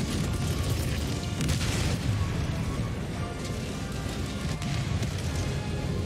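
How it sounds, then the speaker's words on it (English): Deep, rumbling booms from an airstrike in Helldivers 2 roll on without pause, a dense, loud wash of explosions and crashing debris with no clear gaps, and little or no talk above it. "Airstrike incoming."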